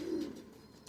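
Pigeon at a pigeon show giving a single brief low coo, close by and fairly soft against a quiet background.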